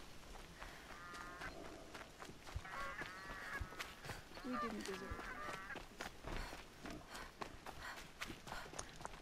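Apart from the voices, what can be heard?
goose honking in a video game, Horizon Zero Dawn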